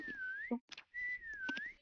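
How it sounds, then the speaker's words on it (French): Two players whistle in a video game, two long wavering tones with a short burst of clatter and a brief voice between them. "on siffle tous les deux en même temps"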